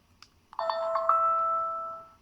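A bright electronic confirmation chime from a Xiaomi Small Square smart WiFi 1080p camera after its setup button is held, with a short blip before it and a clear sustained tone that slowly fades.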